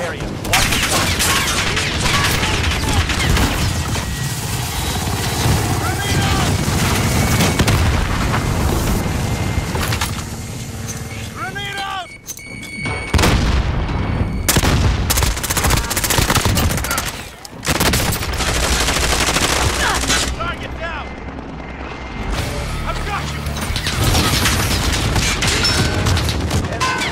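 Gunfire and a grenade blast in Call of Duty Modern Warfare, a loud, dense fusillade of rifle and machine-gun bursts running almost continuously, with brief lulls and game voices calling out over the combat.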